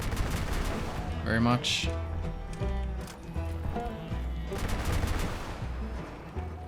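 Rapid gunfire bursts from a hover vehicle in the Crossout combat game, layered with other weapon fire and a steady engine drone, while someone talks briefly over the action.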